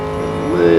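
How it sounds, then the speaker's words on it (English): Tires squeal on a Cadillac DPi-V.R race car in Real Racing 3, a rising tonal screech over steady engine drone that swells louder toward the end of a brief moment. "Little bit of tire squealing."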